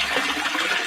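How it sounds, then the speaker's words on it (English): Water briefly splashes and rushes over items coated in stone slurry and borax paste, a short, close rinsing hiss. "Let's just give these a quick rinse"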